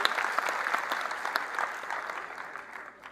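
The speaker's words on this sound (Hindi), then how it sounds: "अशोक जी चौहान जी, एक बार दोनों के लिए एक बार जोरदार तालियों के साथ चाहूंगा।" Loud, sustained applause from an audience filling an auditorium at a commemorative gathering in New Delhi, steady dense clapping for about three seconds that fades slightly at the end.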